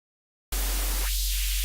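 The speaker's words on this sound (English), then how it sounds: "white noise" Synthesizer white noise used in sound design: a loud, steady broadband hiss that starts abruptly after a short silence and holds, with a low steady tone entering partway through.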